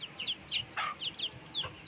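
A hen clucks in short, repeated bursts close by, pecking at food beside a puppy that shares the meal, with a sharper squawk near the middle.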